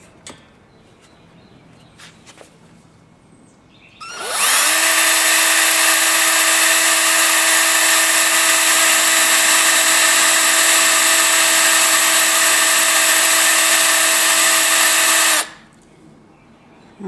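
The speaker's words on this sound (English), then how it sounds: "So this drill bit is designed specifically for stainless steel." A power drill fitted with a stainless-steel bit bores into stainless steel while repairing a broken pivot arbor on a Sessions clock movement, letting out a loud, steady high-pitched whine for about eleven seconds that starts and stops abruptly.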